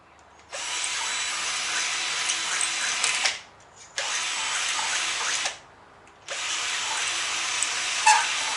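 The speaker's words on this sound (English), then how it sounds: "I drilled them holes, and then I countersunk it" Power drill boring holes in kayak steering parts runs in three sustained bursts, each a loud, steady high whine lasting a few seconds, separated by short pauses, close up with no talking.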